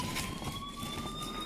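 A voice imitates a fire truck siren, a sustained rising tone held steadily across the short stretch, close and fairly loud.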